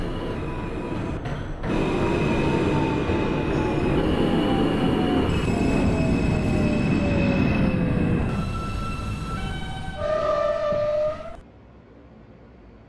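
An R160A subway train on the M local line in the openBve simulator, running with a loud steady rumble and long high-pitched wheel squeals that shift in pitch, then dropping off to a quieter hum near the end.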